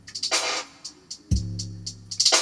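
An electronic drum beat with a deep booming kick, crisp hi-hat ticks and a snare-like burst, looping steadily with no talking.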